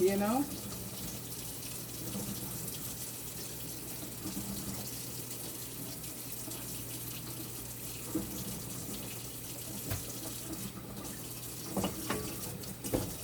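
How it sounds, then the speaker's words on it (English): Tap water runs steadily into a sink while a goat head is cleaned, a quiet continuous gushing stream with a few clunks and splashes of handling near the end. "water running underneath it."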